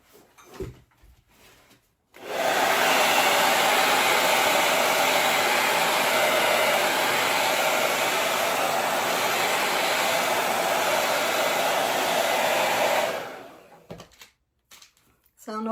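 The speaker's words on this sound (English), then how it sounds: "I'm going to take a hair dryer" A hair dryer switches on and blows a loud, steady, close rushing whoosh for about eleven seconds before cutting off, with quiet handling noises before and after.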